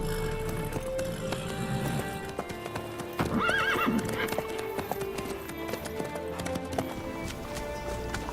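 A horse in the video game Witcher 3 trots with a steady, close clip-clop of hooves and gives a brief whinny midway, over a low background bed.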